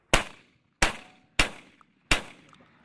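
Four loud shotgun blasts at a duck shoot ring out one by one at roughly even intervals, each a sharp crack that fades quickly into near silence.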